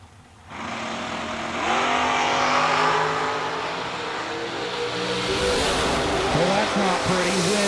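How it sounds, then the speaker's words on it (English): A dragster and a Camaro launch side by side at a drag strip, engines roaring loud and close as they accelerate hard and rise in pitch over several seconds, with no talk over them. "Right side, Kevin Little in the Camaro dials 573"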